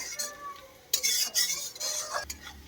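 Banana flower (mocha) cooking in a pan, stirred with a utensil: scattered metallic scrapes and clinks against the pan over a soft sizzle, close and fairly quiet, with a brief murmur of voice.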